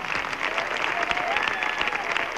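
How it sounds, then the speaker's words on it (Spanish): A concert crowd applauds steadily at a 1988 live recital, a dense wash of clapping that fills the room at an even, moderately loud level without letting up. "Pido un aplauso para ella."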